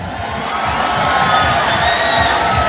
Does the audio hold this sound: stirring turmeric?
no